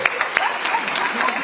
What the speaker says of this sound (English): Another big round of applause to Simon Kasiate.